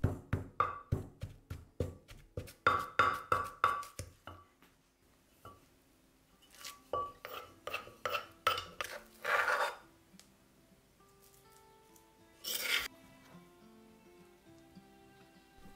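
Spices including garam masala, paprika and turmeric pounded into a paste for a Thai massaman curry, a close, rhythmic series of thuds and grinding knocks in quick bursts, pausing and resuming with a scrape near the end.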